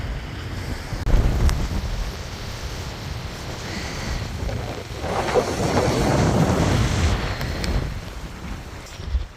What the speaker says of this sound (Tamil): காற்று பயங்கரமாக அடிக்குது பயங்கரமான காற்று அடிக்குதுங்க இங்கே